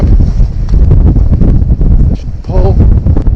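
Strong gusting wind on a fishing dock in NYC buffets the microphone in loud, heavy rumbles that swell and dip, with a brief faint sound partway through.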